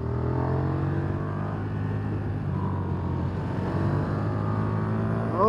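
A KTM 1290 Super Duke R motorcycle engine pulls hard under acceleration, a continuous droning exhaust note rising gradually in pitch and staying fairly close and even.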